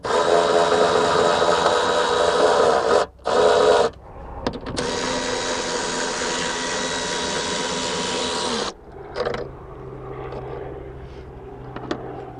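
A cordless power tool whines continuously while unbolting a tail light bolt on a BMW E46, close and loud, with a brief stop and restart, then falls silent into quieter clicks and handling noises.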